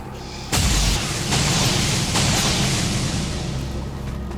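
A device blows apart in the video game XCOM 2 with a sudden heavy boom followed by rolling rumble and a couple of further blasts, loud and close, with no talking.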